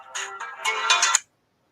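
A mobile phone ringtone plays a short bright electronic melody of quick stepped notes, close and clear, then cuts off abruptly into silence.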